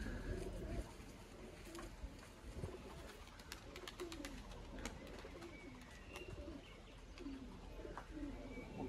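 Pigeons kept as flying birds coo and chirp outdoors in an ongoing low, soft texture, with a few brief higher calls scattered through and wind-like background noise throughout.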